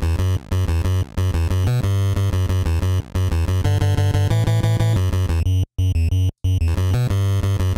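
Chiptune from the NES game Venture Kid plays buzzy square-wave power chords over a round triangle-wave bass doubling the same line. The rhythmic stabs pause briefly near the end, and the music is loud and unaccompanied.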